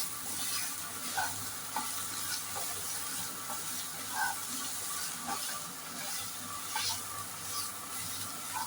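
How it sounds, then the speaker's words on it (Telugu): Chili powder with turmeric sizzles in hot oil in a pan while being stirred for a baby corn paneer curry, a steady close frying hiss with soft scraping stir sounds, no talking. "వేసుకొని వేయించుకోవాలి."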